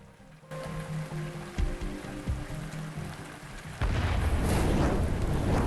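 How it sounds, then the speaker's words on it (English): Explosion effect from the video game Arknights: quiet ambience gives way at once to a loud, wide boom that swells into a sustained rumbling, crackling roar lasting to the end. "With a deafening boom, the sound of an explosion suddenly tore through the air from not too far away"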